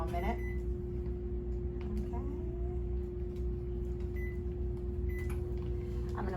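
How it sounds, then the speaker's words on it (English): Microwave oven running with a steady low hum and a constant whine, heating liquid for sterilizing in a lab setting, alone with a few faint clicks. "I'm going to place it in the microwave."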